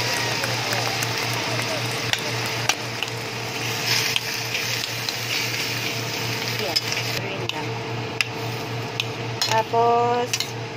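Chicken wings with onion and tomato are stirred in a frying pan, with a utensil scraping and clinking against the pan over a steady sizzle, close and fairly loud.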